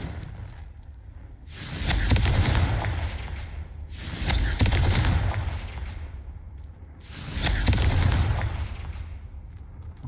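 Booming spell explosions in the Hogwarts Legacy video game, three loud broadband blasts about every three seconds, each with a rumbling decay, and no talk.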